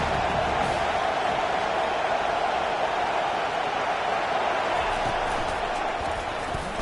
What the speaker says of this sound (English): They've got them then deep in their own end, and this crowd trying to help keep them there.